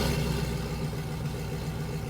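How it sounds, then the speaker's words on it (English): Cammed Chevrolet Silverado 5.3L pickup exhaust with long tube headers, a deep, steady rumble at low revs with a slightly choppy idle, heard close while driving. "give you a real sound of that new exhaust and those new long tube headers"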